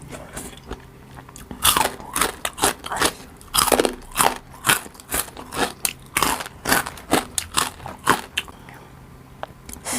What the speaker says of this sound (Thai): กินกับน้ำพริกกากหมู